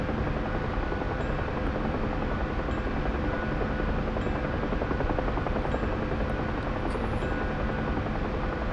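Helicopter engine in a flight simulator during night-vision ADF navigation, a loud, constant rotor and turbine drone that holds steady without a break.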